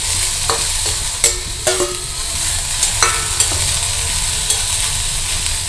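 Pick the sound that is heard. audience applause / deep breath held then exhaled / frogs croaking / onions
onions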